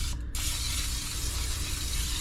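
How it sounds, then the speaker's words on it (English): A can of cooking spray gives a steady, close hiss as it greases the inside of a bowl for brown bread. A brief dip near the start breaks the spray, which then continues evenly. "this cooking spray"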